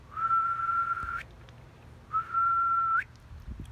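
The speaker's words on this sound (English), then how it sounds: "out came a real whistle." Two long, steady whistled notes from a person, each held about a second with a short pause between, clear and alone over faint background.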